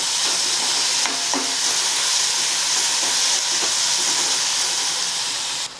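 Tomatoes, garlic and onion fry in a pan with a loud, steady sizzle and hiss, broken by a few soft clinks and scrapes of a spoon stirring, close and continuous without speech.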